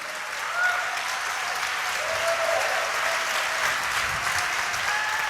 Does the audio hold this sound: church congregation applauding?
yes